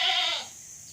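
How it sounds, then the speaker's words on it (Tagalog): A single wavering goat bleat from a farm goat pen, close and fairly loud, fading out quickly into quiet background. "Ayan o, kambing."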